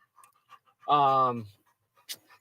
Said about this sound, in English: I'm too distracted by how gorgeous this puppy dog is